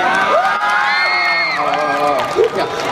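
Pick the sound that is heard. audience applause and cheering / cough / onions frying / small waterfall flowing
audience applause and cheering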